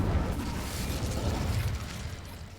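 An Incendio fire spell is cast in Hogwarts Legacy, a close, loud whooshing burst of flame that rumbles and slowly fades, with no talking over it.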